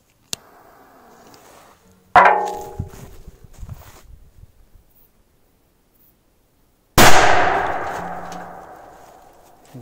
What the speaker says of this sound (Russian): Вот это был взрыв.